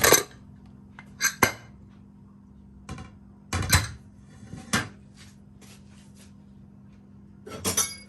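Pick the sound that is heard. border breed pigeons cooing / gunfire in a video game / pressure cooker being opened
pressure cooker being opened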